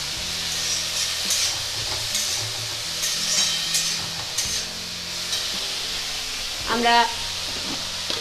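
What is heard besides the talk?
stirring cabbage with chilli powder in a pan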